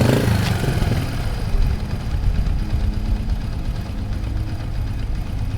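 A Yamaha TTR 125 motorcycle engine idles steadily nearby, a continuous low rumble with an even pulsing beat that holds at a constant level throughout.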